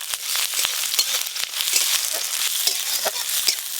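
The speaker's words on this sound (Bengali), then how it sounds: "এবার পেঁয়াজ কুচি দিয়ে দেবো।" Chopped onion fries in mustard oil with a dense, continuous crackling sizzle up close, punctuated by light taps and scrapes of a spatula stirring throughout.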